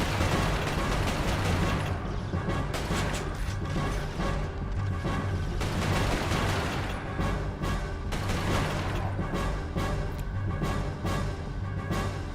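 Gunfire in Resistance: Fall of Man, a dense, continuous run of mechanical clattering shots and rattling bursts held at a steady loud level for the whole stretch, with no pauses and no voices over it.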